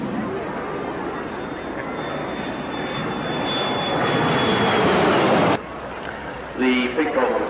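A General Dynamics F-111 jet makes a final pass at a 1986 airshow in Leicester, a loud, sustained roar that builds and then cuts off abruptly, with a commentator talking over it.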